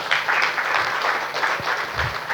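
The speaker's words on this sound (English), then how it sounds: "I think that deserves a round of applause." A conference audience at an entrepreneurship programme event applauds, many hands clapping in a full steady roar that swells slightly in waves, sounding like a large hall.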